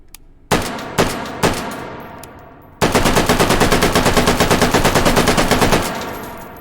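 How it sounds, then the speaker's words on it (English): A German automatic rifle fires in the H3VR game, first three loud separate single shots, then a long rapid full-auto burst that carries on for about three seconds and ends in a short ringing tail. "I'm going to take 3 shots in semi, and then I'm going to do the rest in auto."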